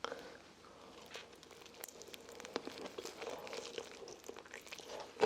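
Crisp crunching bites into an air-fried chicken wing's skin, a few sharp crackles and crinkly chewing up close, with no talking.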